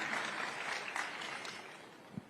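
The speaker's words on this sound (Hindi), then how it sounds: "जोरदार तालियों से स्वागत कीजिए।" Studio audience applause welcomes a guest, a Union food processing industries minister, onto a Hindi TV news show, a steady, moderately faint wash of clapping with no talk over it.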